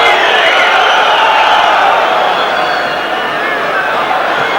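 A large football stadium crowd in Lyon at a 1996 UEFA Cup match against Nottingham Forest makes a loud, sustained roar and murmur, dense and continuous with swelling noise throughout.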